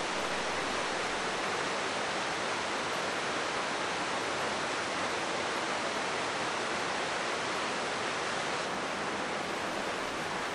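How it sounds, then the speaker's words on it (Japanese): Loud, steady roar of a rushing mountain stream swollen after rain in Shikoku, Japan, a dense continuous wash of water noise with no breaks or voices. "谷間には急流の水音が響き渡り、"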